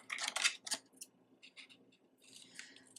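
Scissors snipping through a piece of cardboard for a small storage cabinet build; a quick cluster of crisp close cuts, a pause with a few lighter snips, then another burst of cutting, with no talk.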